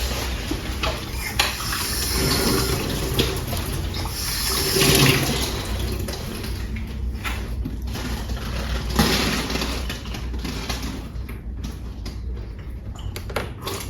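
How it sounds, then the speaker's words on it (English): Water running and splashing steadily into a container to soak a plant's roots during repotting, a continuous hissing pour with occasional clinks. "And then I'm gonna soak the roots."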